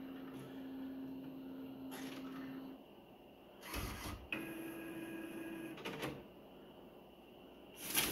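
A DTF (Direct To Film) printer being powered on, with mechanical whirs, clicks and ratcheting bursts from its moving parts, faint and close with quiet gaps between.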